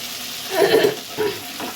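Fried chicken pieces lifted out of hot oil, a soft sizzle that swells briefly, fades, then returns in short bursts as pieces come out of the pan.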